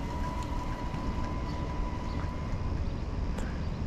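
Amtrak City of New Orleans passenger train rolling onto the main line, heard from on board as a steady low rumble of wheels and track noise with a faint constant tone, no talk.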